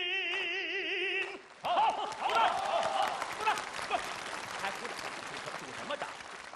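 Audience applause breaks out at a Chinese television variety performance right as a sung phrase ends, swelling into loud, dense, sustained clapping from a large crowd that carries on to the end.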